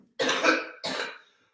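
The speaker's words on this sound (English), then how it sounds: "You haven't stopped coughing in like 5 minutes." Two harsh coughs, close and loud, with a short pause between them and silence after.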